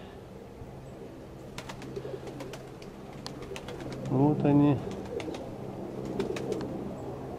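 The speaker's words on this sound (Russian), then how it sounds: "Так, что там наши голуби?" Pigeons in a loft coo in a short, throaty burst partway through, with chirps and faint wing flutters around it, and someone speaks briefly nearby.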